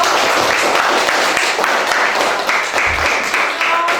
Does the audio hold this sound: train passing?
no